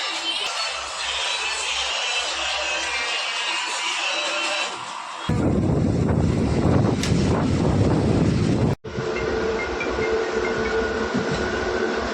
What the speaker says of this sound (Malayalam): ഞങ്ങൾ ട്രിവാൻഡ്രത്തേക്ക് ട്രെയിൻ കയറി കേട്ടോ